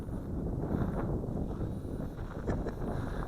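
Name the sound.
wind blowing while flying an FX808 RC airplane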